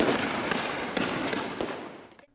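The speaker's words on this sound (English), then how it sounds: "the sounds of gunshots and explosions have become pervasive city noise" Gunfire and explosions in a conflict zone sound as a dense, loud crackle of overlapping shots, with several sharp heavier bursts, before fading out at the end.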